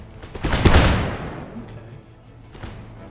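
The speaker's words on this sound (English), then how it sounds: "I'm hearing, like, scattered musket shots" Scattered musket shots crack in the Empire Total War video game, a dense burst of overlapping gunfire that swells and fades within about a second, followed by a faint single later report, with a brief spoken word.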